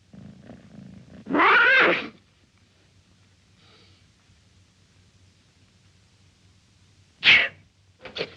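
A person gives a single sharp, loud sneeze early on in a quiet room, followed by near silence and a couple of brief breathy noises later.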